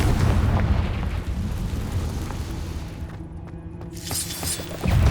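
Explosive booms from a Confringo blasting curse in Hogwarts Legacy rumble loud and close, with a dense low roar, a short dip, and a fresh blast near the end.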